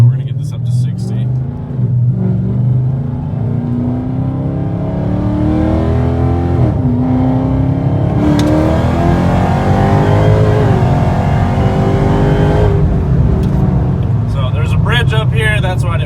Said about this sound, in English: So we're gonna get this up to 60.